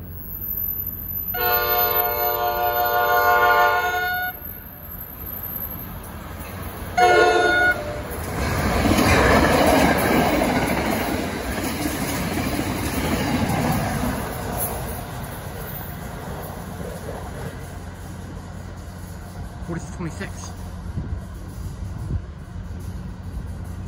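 An Amtrak train passes through North Elizabeth station in New Jersey without stopping, sounding two loud horn blasts before a long roar of rail cars rolling by, fading toward the end.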